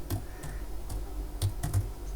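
Typing on a computer keyboard while entering Python SciPy code, a short run of close, light key taps in an uneven rhythm with no speech.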